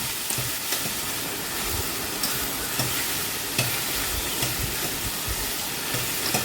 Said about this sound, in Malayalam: ഈ വെളിച്ചെണ്ണയിൽ കിടന്നൊന്ന് വഴന്ന് വരട്ടെ.